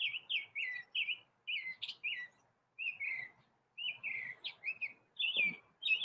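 Chirpy, a pet bird, gives a run of bright, repeated chirps and short tweets in quick bursts with brief pauses, fairly close in a quiet room.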